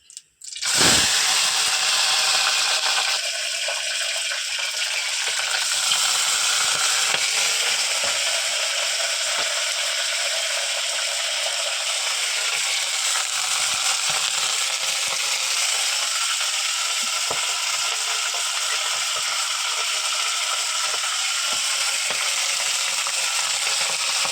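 Dal being tempered in hot oil in a Gujarati home kitchen: a loud, steady broadband sizzle that bursts in suddenly and holds for the whole stretch with no talking over it.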